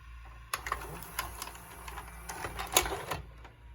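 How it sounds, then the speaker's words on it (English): A thrift-store Panasonic VCR ejects a tape, producing a busy run of small mechanical clicks, whirs and ticks over a low motor hum. One sharper clack comes near the end. The sound is fairly quiet and close, with no talking. "let's eject my tape"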